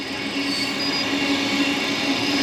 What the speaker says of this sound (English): There's the special train.